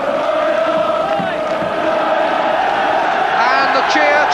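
A large football stadium crowd roars and cheers continuously as the players come out, a loud, dense wall of voices with whoops and shouts rising toward the end.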